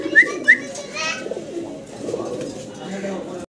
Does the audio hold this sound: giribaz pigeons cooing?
yes